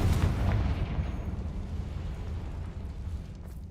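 A Confringo blasting spell goes off in Hogwarts Legacy as a rumbling, explosive boom that starts loud and decays into a sustained low roar over several seconds.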